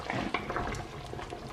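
Tomato being stirred into a pot of Ghanaian chicken light soup, a brief close sequence of wet scraping and sloshing strokes with a soft bubbling underneath, no voices.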